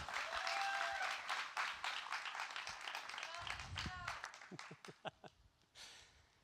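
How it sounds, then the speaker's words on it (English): Audience applause at a Roma Moulding company all-hands meeting, a dense wash of clapping for Michael that swells right away and then thins and tapers toward the end, with a few voices over it. "Big round of applause for Michael."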